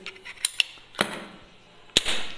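Lead pellets fired from a PCP air rifle make short, sharp snaps, a few quick cracks spaced apart and one louder shot near the end, with no talking.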